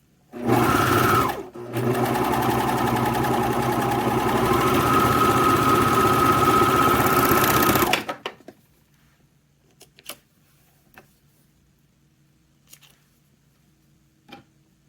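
A sewing machine stitches a seam in two loud steady runs with a short pause between, then stops, leaving a few faint clicks and handling taps.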